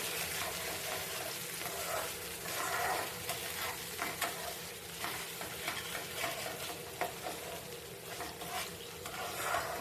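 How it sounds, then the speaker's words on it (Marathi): Chilli garlic chicken stirred on a hot tawa, a continuous sizzle with scraping spatula strokes, close and steady throughout. "आता हे चांगलं आपण फिरवून घ्यायचंय, एकजीव करून घेऊया."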